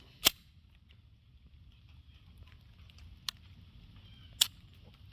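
Trigger reset clicks on a Springfield Armory Echelon handgun: a few sharp, isolated snaps spaced over several seconds, close and crisp against near silence.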